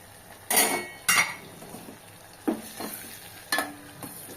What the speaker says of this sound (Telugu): మూత పెట్టి టమోటాలు మగ్గనిద్దాం